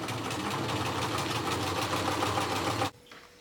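Sewing machine stitching quilting rows through a scrappy fabric quilt, a steady close rapid mechanical whir running continuously for about three seconds before stopping abruptly.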